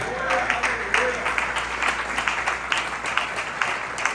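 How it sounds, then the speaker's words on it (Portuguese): A church congregation claps in steady applause, with a few individual claps standing out, while a voice is faintly heard beneath. "Pode aplaudir aí."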